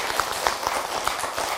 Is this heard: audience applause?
yes